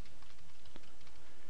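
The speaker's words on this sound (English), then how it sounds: "I'm going to come over to this text box and I'm going to start typing." Keys clatter on a computer keyboard as someone types into a text box, a quick, close run of soft taps over a brief moment.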